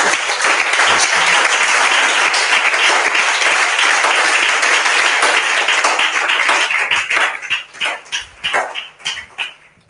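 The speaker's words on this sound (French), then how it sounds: "Est-ce qu'on peut acclamer très fort?" A church congregation at a service led by Pastor Adolphe Kasonga bursts into loud, sustained cheering and applause that fills the room. Near the end the clapping thins into separate claps and fades.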